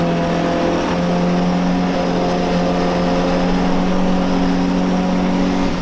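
An MGB GT race car at Silverstone's Grand Prix circuit drones loudly and steadily up close, its engine note holding a sustained, even pitch with no clear break.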